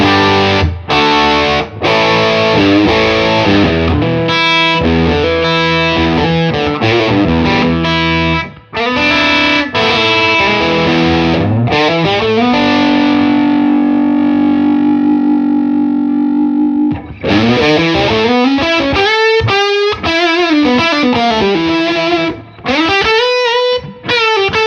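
An electric guitar through a Twimble Dumble-style overdrive pedal plays loud, fat, driven chords and riffs, with one long sustained chord ringing mid-passage before the playing picks back up.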